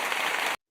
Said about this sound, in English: Oh, applause.